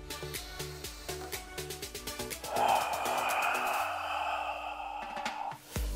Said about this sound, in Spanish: Fíjate cómo mantengo constantemente esa respiración bien profunda.